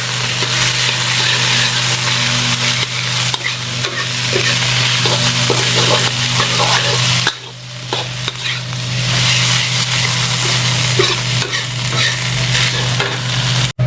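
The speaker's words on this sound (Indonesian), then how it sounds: "masukin wortel dan makaroninya. Di sini kita tumis sampai wangi" Carrots and macaroni sautéing in a pan as potato croquette filling, a steady close sizzle with a stirring, scraping texture that runs without a break, briefly dipping midway before resuming.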